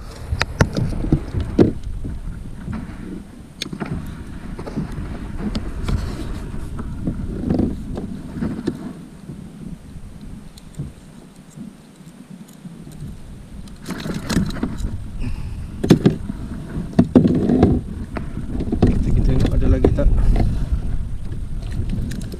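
Wind rushes over open sea during kayak fishing, a rough, gusting roar against the microphone that rises and falls over more than twenty seconds, mixed with faint water and boat knocks.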